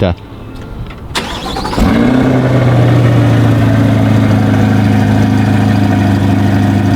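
A 2020 C8 Corvette fires up for its first start, the starter cranking briefly before the engine catches with a rev flare and settles into a loud, steady idle close by, with people talking.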